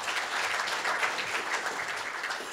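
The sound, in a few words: audience applause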